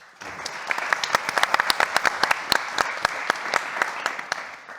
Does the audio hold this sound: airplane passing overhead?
no